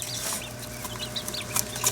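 Newly hatched baby chicks peeping in high, rapid, overlapping chirps close by, with a steady low hum underneath and no talking.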